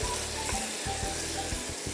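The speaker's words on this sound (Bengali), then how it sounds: "মাংসটাও ভাজা হচ্ছে, টমেটোটাও কিন্তু ভাজা হচ্ছে" Constant bright sizzling of beef and tomato frying in a kadai pan, with occasional stirring thumps and no talking.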